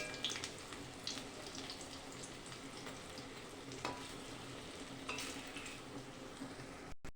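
Urad dal fritters frying slowly in oil over a low gas flame, a faint, steady sizzle and crackle that carries on without a break, with occasional small pops.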